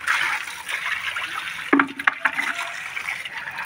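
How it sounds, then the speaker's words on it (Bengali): Water pouring into a container at home, a continuous near splashing hiss with a brief louder knock and gurgle midway, no talk. "দেখো কেমন করে জল ভরছে"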